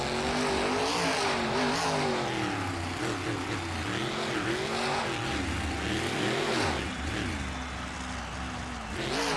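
Monster trucks including Madusa race in a 2009 Tampa event, engines revving hard with rising and falling pitch sweeps, loud and continuous with the roar of the arena behind.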